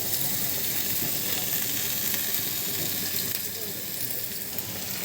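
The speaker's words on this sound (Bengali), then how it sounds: "থেকে দেখেন এখন করলা দিয়ে দিব" Bitter gourd hits hot oil with onion, garlic and chili, producing a loud, dense, continuous sizzle close by, with faint stirring underneath.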